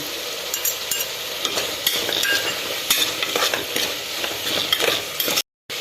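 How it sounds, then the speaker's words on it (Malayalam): Tomato and turmeric powder are stirred into a frying pan for a Kerala-style vegetable kuruma. A spoon scrapes steadily through the pan over a constant sizzle, close and moderately loud, heard alone. "തക്കാളി ഇട്ട് കൊടുക്കാം എടുത്തു വച്ചിരിക്കുന്ന മഞ്ഞൾപ്പൊടി"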